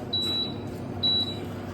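Two clear, high electronic beeps sound about a second apart from an Emeril Lagasse Pressure AirFryer as its timer is set, each one short and crisp over a quiet room.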